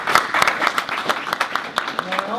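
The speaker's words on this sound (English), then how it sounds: "Let's give them a round of applause." A small audience at a business seminar breaks into applause, a quick patter of close claps lasting a couple of seconds, with a voice audible toward the end.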